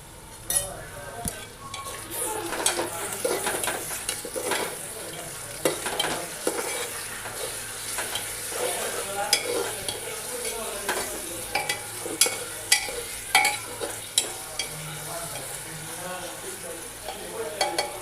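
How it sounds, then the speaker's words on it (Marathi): Onion frying with ginger garlic paste for masala bhat, a continuous close sizzle broken by frequent scraping and stirring strokes that stay fairly even throughout. "मी आलं लसूण पेस्ट टाकून आणखी जरा कांदा भाजून घेतला."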